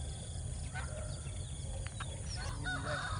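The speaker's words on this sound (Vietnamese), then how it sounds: "chim này chim thiên nga nha mọi người" A trapped swan honks at night outdoors, a few faint, scattered calls over low background noise.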